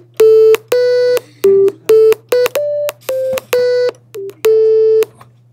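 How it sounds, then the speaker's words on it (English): A very simple monophonic sine wave player sounds a sequence of about a dozen short steady tones at slightly varying pitches, loud and close over a low constant hum. "I've got a very, very simple monophonic sine wave player."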